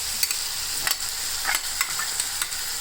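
Chicken jalfrezi with tomato ketchup added sizzles in a pan, with soft scraping stirs and light crackles over a steady frying hiss.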